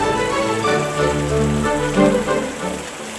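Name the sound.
rain falling at night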